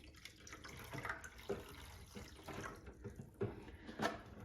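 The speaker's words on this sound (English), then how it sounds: "Now with this metal plate in place, you can pour the rest of the water in." Water is poured into the tank of a Sani Bot D3X CPAP cleaner, which has a metal plate in place, producing soft, faint trickles and a few light splashes and drips.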